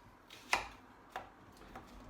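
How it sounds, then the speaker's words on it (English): An onion being rough-chopped with a knife for pea and mint soup, heard as three quick, light chops on a board spaced about half a second apart, the first sharpest, with quiet gaps between. "Again, this is going to be pureed, so we're just going to do a nice rough chop."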